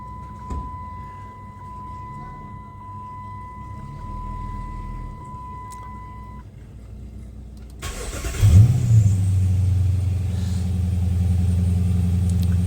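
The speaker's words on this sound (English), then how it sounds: "when I go to crank it up, she just cranks strong every time" A vehicle chimes quietly with a steady tone, then the engine cranks briefly, catches, revs up loudly and settles into a steady idle, close by.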